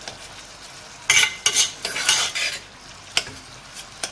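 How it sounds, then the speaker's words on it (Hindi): Cooked potatoes for a potato curry are mashed with a metal spoon against a pot, giving several scraping, clinking strokes spread across a few seconds, close and fairly loud, with no talk. "इसको हमें इसी तरह चमचे से मैश कर लेना है।"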